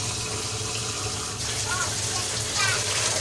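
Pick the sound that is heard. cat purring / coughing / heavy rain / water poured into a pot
water poured into a pot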